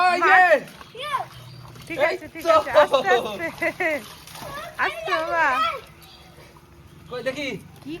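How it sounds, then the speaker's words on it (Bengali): Hot water splashes and sloshes as someone is scrubbed clean during a bath in a Bengali home, with adults and someone talking over the wet slaps throughout. "এখন ঘষা মাজা চলছে গরম জল ঢেলে এর মধ্যে গরম জল ঢেলে দিয়েছে"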